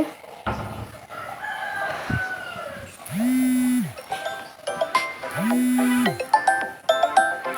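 Roosters crow loudly twice among free-range country chickens clucking at a farmyard beside a coconut grove, with a cow lowing and people talking in between.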